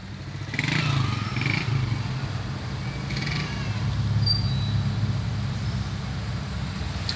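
A 2008 Hyundai Azera engine fitted with a FAST acceleration module, heard from inside the car as a steady low rumble that swells under acceleration, with faint clatter and no talking.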